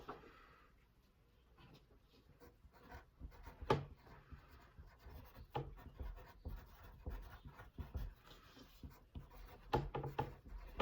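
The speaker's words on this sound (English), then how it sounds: "Don't say it out loud, but write it on your piece of paper" Students write on paper in a classroom lesson. Soft scratching and rubbing of pencils runs through the room, with scattered rustles and bumps, faint and fairly close, with no talking.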